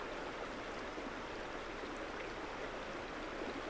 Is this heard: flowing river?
yes